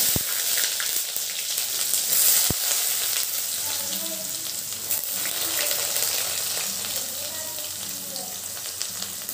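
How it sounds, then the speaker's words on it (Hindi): Chopped onion fries in a pan with green chilli and garlic for a khichdi and chokha meal, a steady close sizzle with faint stirring and some background noise. "इसमें प्याज डालेंगे,"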